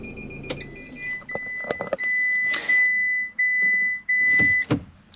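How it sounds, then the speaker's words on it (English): Several electronic beeps in a short series as a Swift Freestyle SE 664 motorhome's engine starts, with a sustained tone at times, over a faint engine hum and light clicks. "if I start the engine, that beeping's just to say we're hooked up"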